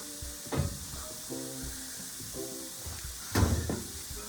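Sun-dried tomatoes and onions sizzle quietly in avocado oil in a pan, a soft steady frying hiss broken by a couple of brief stirring scrapes.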